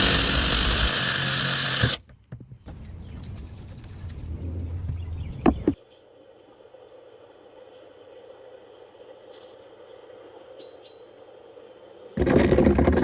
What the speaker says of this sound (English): let's go ahead and drill these holes